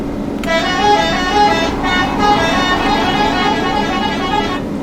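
A Mercedes Tourismo coach in Euro Truck Simulator 2 sounds its horn in a loud, sustained, multi-tone blast lasting several seconds over the steady hum of the engine.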